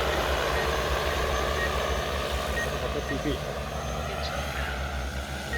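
An agricultural spraying drone lifting off automatically in a farm field, a steady loud rotor drone with a buzzing whine that holds throughout, while people talk nearby.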